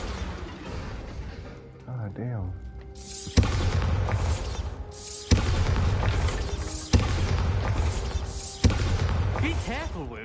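Spell blasts in a wizard video game crack out as a string of sharp, loud impacts with booming tails, separated by a few seconds each, while a voice talks briefly over the game sounds.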